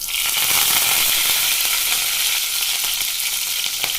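Cumin and mustard seeds sizzle in hot oil, a dense, steady hiss of frying with faint crackles and pops, close and fairly loud, with no voices over it.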